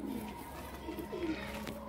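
Soft, low pigeon cooing murmurs steadily, with one clearer coo rising near the middle, against a dull background hum.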